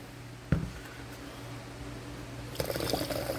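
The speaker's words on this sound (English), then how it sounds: "you'd have to pour almost a pitcher of soda water out for it to hit warm water" Soda water from a keg tap starts with a brief sharp burst, goes quiet, then flows into a steady bubbling pour over the last second, with a constant low hum underneath.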